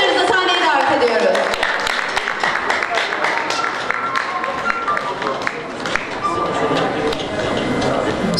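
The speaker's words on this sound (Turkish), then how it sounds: "Sayın Süleyman Harbak Beyefendi'yi alkışlarınızla sahneye davet ediyoruz" An audience at a book launch applauds Süleyman Harbak as he comes on stage, with sustained, dense clapping from a sizable crowd, loud and continuous throughout, with voices mixed in.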